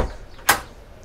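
A single sharp latch clack rings out as the engine-room door opens on a Sanlorenzo SL106A superyacht, followed by a short fading resonance in a quiet space.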